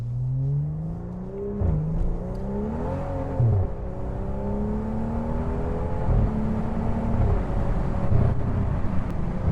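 A BMW 535i with a full exhaust build and turbos runs steadily, its engine drone rising and falling through a couple of gentle revs, with a constant loud rumble close by.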